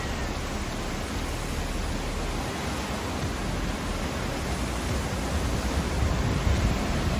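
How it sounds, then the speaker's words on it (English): Powerful Hurricane Milton wind roars without a break in Tampa Bay, Florida, a dense, loud rush that swells slightly near the end. No voices, only the constant blast of the storm. "Wind gusts are still strong. Oh, here comes another one."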